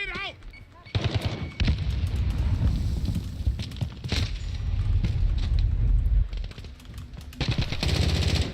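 Grenade blasts and rapid gunfire from a Modern Warfare video game match, loud and dense, with bursts of automatic fire and booming impacts running almost continuously through the clip, with a brief quieter opening.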